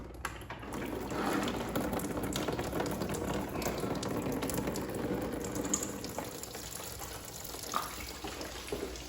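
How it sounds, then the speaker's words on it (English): Coolant drains from a Fiat 500 Abarth into a pan, a steady, faint trickling and splashing of liquid that runs continuously without talk. "I'm gonna go ahead and do that now and drain the coolant."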